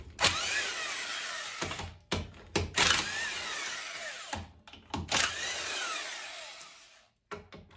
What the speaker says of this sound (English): Let's pop the lug nuts off.